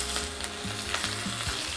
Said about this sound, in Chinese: 我们把刚刚这个倒出来的鸭油再把它倒回来，再加一点点奶油，马铃薯水倒掉之后就一片片下去